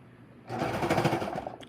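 Sewing machine stitching fabric for an outfit, a loud, fast rattling run of stitches that starts abruptly after a moment of quiet and continues steadily to the end.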